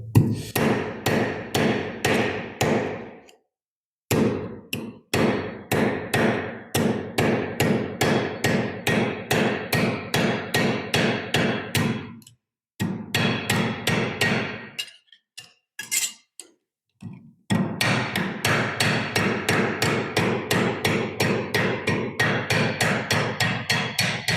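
Loud metallic hammer blows rolling the edge of metal armor, struck in rapid, steady runs, each ringing sharply, with a few brief pauses between bursts of hammering.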